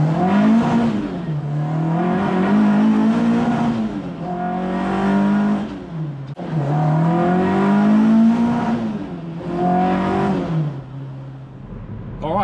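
A Mk1 Ford Fiesta accelerating hard on the road, engine revving up through rising pitch sweeps with gear changes in between, loud and close throughout with no talking.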